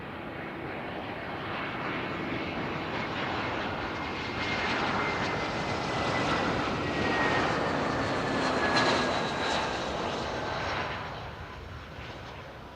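An airliner takes off from runway 28 at Zurich Airport, its broad engine roar building and swelling over several seconds before easing slightly, heard alone without talk.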